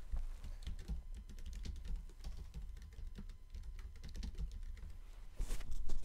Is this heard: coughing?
no